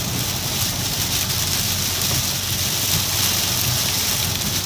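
Steady rain drumming on a manual-transmission car while driving with the windshield wipers on, a dense continuous hiss of drops on glass and roof with a low road rumble beneath.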